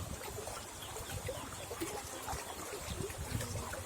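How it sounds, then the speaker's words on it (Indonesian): Strong rushing river current flowing past a riverbank where loose bricks from an eroded temple structure lie, a steady broadband wash of water at moderate level throughout, with no voices. "lokasinya di sungai yang arusnya deras"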